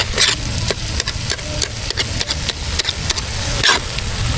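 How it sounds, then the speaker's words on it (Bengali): A spatula scrapes and chops through beef brain frying in a pan outdoors at night, with quick repeated clacking strokes over a steady sizzle. "এটা আস্তে আস্তে আমি ভাজার কাটা দিয়ে নেড়ে নেড়ে খন্ড খন্ড করে দেবো।"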